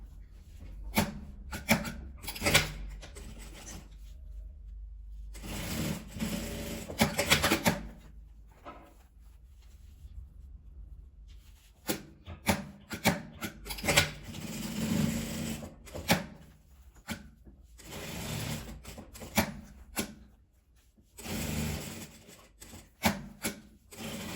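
A sewing machine stitches a seam closed on patchwork fabric for a scrap-fabric crossbody bag, running in bursts of rapid mechanical clatter separated by short pauses, close and fairly quiet.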